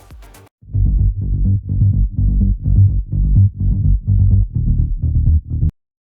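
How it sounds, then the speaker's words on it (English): A low, rolling, high-passed synth bass pulses in a steady grooving rhythm, thin on top and heavy in the lows, playing alone. "The first of which is a high-passed rolling layer"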